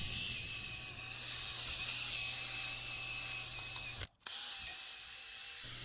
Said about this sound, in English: I'll take a wire wheel attached to my drill and go over all the metal pieces